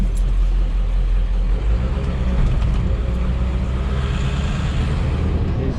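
A truck with no suspension rumbles and bangs over harsh speed bumps, a loud, steady, low engine drone with jolting thumps, heard close up.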